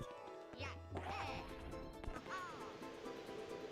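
A bird in Super Mario 64 DS gives a few short, harsh caws and squawks over a faint game background, fairly quiet, with a voice talking softly underneath.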